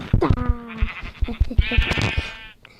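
Sheep bleat in a survival video game, several wavering calls close up in quick succession, loud and alone with a few clicks between them.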